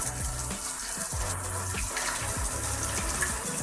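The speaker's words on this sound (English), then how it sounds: "the nozzle will perform a self-cleaning cycle before extending again" Steady hissing spray of water from a smart toilet's bidet nozzle running continuously, with a low mechanical whir and faint rhythmic pulses underneath, no voices.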